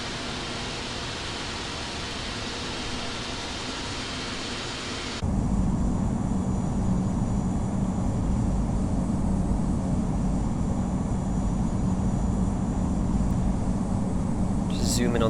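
Airbus A380 jet engines hum steadily as the airliner taxis in the Infinite Flight game. A constant broadband roar shifts partway through to a louder, lower drone.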